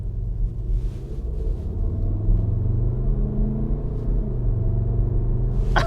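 A deep, throaty Skoda engine sound, 240 horsepower, played through a rear speaker swells and rises in pitch as if revving, holding steady and loud throughout.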